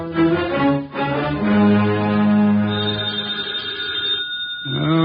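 A telephone bell rings in one long continuous trill that cuts off near the end, then resumes briefly, loud and close in a quiet room.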